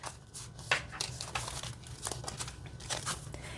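Dark fantasy oracle cards on sturdy cardstock being shuffled by hand, giving a run of close, soft papery crinkles and riffling bursts with no talking.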